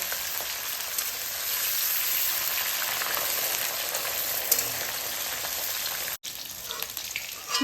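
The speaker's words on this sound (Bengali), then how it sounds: "একটু লাল লাল করে ভেজে নেব তোমরা চাই আমি এখানে সর্ষের তেল ব্যবহার করছি" Cauliflower florets frying in mustard oil make a loud, continuous, close crackling sizzle with a brief dropout near the end.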